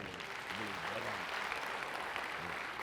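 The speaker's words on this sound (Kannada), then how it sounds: "ಅವರಿಗಾಗಿ ಒಂದು ಜೋರಾದ ಚಪ್ಪಾಳೆ" Audience applause at a Kannada comedy show, a short burst of many hands clapping in a hall, fairly faint and steady, with a voice briefly audible over it.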